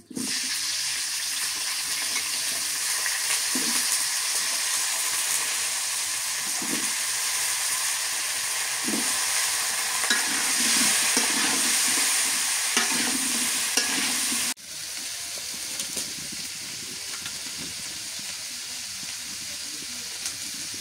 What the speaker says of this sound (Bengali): এই তেলের মধ্যে কপিগুলো একটু ভাজা নিই।